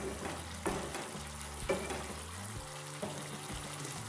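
Water goes into a yogurt and spice masala in a pan for doi begun, a close sizzling and bubbling hiss with a few soft stirring clunks, steady and moderately loud with no talk.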